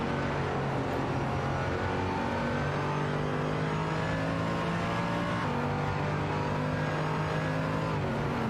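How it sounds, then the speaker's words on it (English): A race car in the racing video game Automobilista accelerating away, a continuous loud engine whine with rising, shifting revving tones throughout, no voices. "Racing car dashing away."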